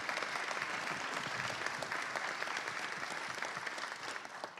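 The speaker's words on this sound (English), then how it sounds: "say a big thanks with a round of applause to our city directors" A meeting audience gives a round of applause, dense steady clapping that holds at an even level throughout, fairly distant.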